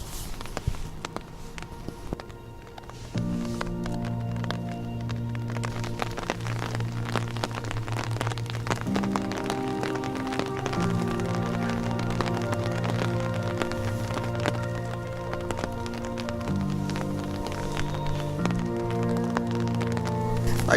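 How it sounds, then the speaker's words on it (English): Hail falling outdoors as a dense, continuous patter of many small impacts, with a sustained musical tone running underneath for most of the stretch. "that's hail"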